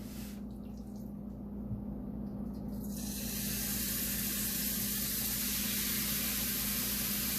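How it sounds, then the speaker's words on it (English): Fresh venison dropped into a hot oiled skillet: a quieter frying hiss opens, then a loud, steady broadband sizzle surges in and holds to the end. "First thing I do is I add in the meat."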